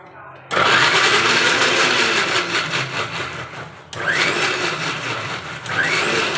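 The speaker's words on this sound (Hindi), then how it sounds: "ये टमाटर काट के मैं ग्राइंड कर रही हूँ पहले" A mixer grinder whirs loudly as it grinds chopped tomatoes, running in a few sustained bursts with short breaks between them, close and steady, with someone talking underneath.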